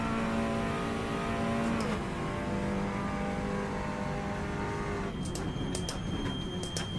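Race car engine in an online racing video game, a continuous loud droning whine that holds steady and shifts pitch partway through, heard close from the cockpit.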